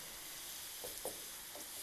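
Onions frying in a pan for a mini pizza topping, a faint steady sizzle with a few soft stirring scrapes near the middle and end.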